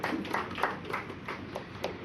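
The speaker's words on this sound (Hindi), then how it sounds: "हामिद जी का जोरदार तालियों से स्वागत कीजिएगा" Faint, scattered applause from an audience welcoming a guest onto the stage at a gathering, with a loose run of soft claps that rises and dips under a hushed room.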